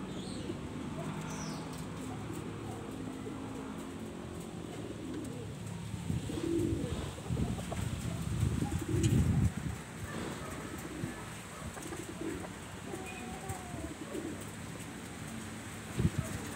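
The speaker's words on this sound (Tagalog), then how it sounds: "Ayan mga kalapatids." Pigeons cooing nearby outdoors, a few soft repeated coos over faint ambient noise, with a brief flutter of activity and someone speaking quietly.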